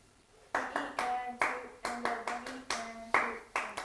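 One person claps out a rhythm measure during music training, roughly ten crisp nearby hand claps with varied spacing, accompanied by a low counting voice.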